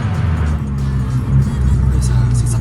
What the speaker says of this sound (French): Ça pétarade et tout. Incroyable.